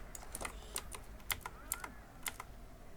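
Quiet, irregular clicks of keys being typed on a computer keyboard, close and crisp against a low background hum.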